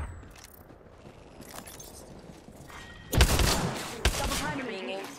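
Gunshots in the video game Apex Legends, two sharp close bursts arriving late after a quieter stretch of game ambience, with a voice speaking early on.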